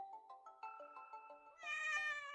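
A cat meows in the mobile werewolf game Ookami Game Another, with plinking game music notes followed by a sustained, bright synthesized meow, faint and without talk.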